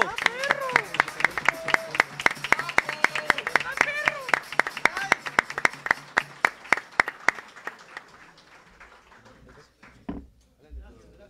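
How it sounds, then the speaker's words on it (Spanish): Audience at a university tuna and estudiantina music gathering breaking into applause, a fairly close burst of rhythmic clapping with voices mixed in that thins and fades out over several seconds. "pedimos por favor un fuerte aplauso"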